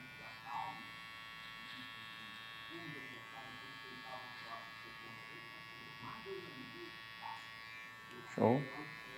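Electric hair clippers buzz steadily while finishing the nape on a men's short social haircut, a close, even hum that runs throughout with a louder burst near the end, and someone talks over it.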